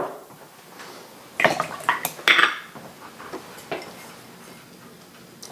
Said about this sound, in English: we're going to put 16 ounces of the basil tomato sauce.